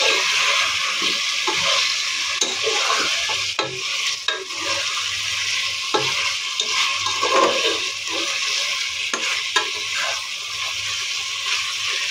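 Chicken pieces sizzle as they are stirred and fried in a spice paste cooked down in oil. The sizzle is loud and steady, with occasional scraping strokes from a spoon.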